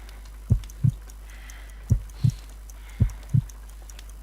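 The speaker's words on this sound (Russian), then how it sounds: "I need to concentrate and count the heartbeats." Heartbeat pulse effect in the video game Sherlock Holmes: Crimes & Punishments, deep paired lub-dub thumps repeating slowly about three times over a low steady hum, loud and close with no speech.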